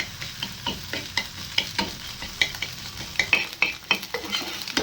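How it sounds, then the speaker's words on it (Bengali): Scrambled egg with a little salt sizzles in a pan while a utensil stirs and scrapes it in quick, repeated strokes, each scrape clicking over the frying hiss. "ডিমটা মোটামুটি ভাজা হয়ে গেছে"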